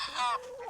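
A chicken on a Maine homestead giving a brief, close cluck followed by a softer trailing note, under a second long and fairly quiet.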